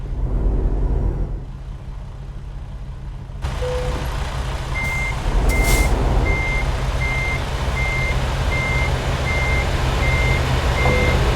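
In American Truck Simulator, a truck backs up to couple a trailer, its engine rumbling low and steady while a reversing alarm beeps in an even, repeating rhythm over the idle.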